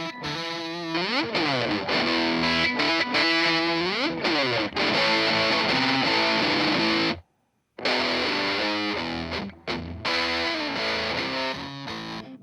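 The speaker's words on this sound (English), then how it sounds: "we reamped it to like a big Marshall stack kind of sound" Heavily distorted electric guitar chords reamped through a Marshall stack ring out loud and thick, dropping out briefly before kicking back in.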